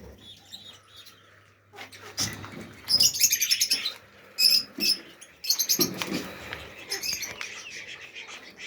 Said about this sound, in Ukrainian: Це теж качка.